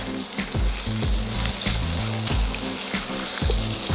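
Thick salmon steak sizzles in a frying pan with only a little oil, a steady close crackle of frying with repeated louder pops and spits over four seconds, no voices.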